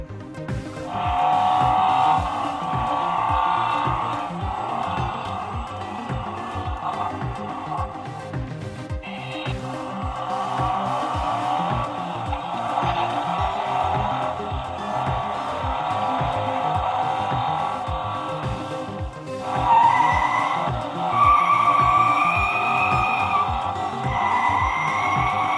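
Electronic engine-revving and tire-screech effects blare loudly from a Spin Master Batman Batmobile toy car, playing continuously on their own with a brief dip near the middle and a louder surge toward the end.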